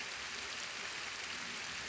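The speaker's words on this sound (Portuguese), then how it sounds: "É, muita chuva, viu?" Rain falls steadily on forest vegetation in the Agreste region near Ingá, Paraíba, a soft even hiss with no distinct drops or voices.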